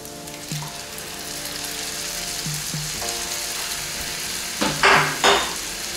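Onion and carrot for borscht sizzle steadily in a frying pan as they are stirred, a constant crackling hiss with soft harmonic tones underneath and a couple of louder scraping bursts near the end.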